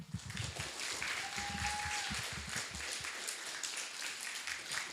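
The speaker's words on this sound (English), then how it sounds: "keep the round of applause going" Audience applause at a poetry reading contest, a broad steady wash of clapping that fills the whole stretch at even strength, with a faint thin tone drifting briefly through the middle.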